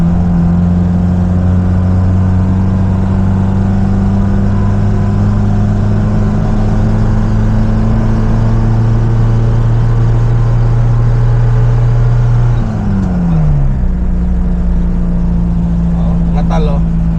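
A car engine hums steadily and loudly from inside the moving vehicle on a tunnel road, its drone shifting pitch once as the drive changes, with people talking over it.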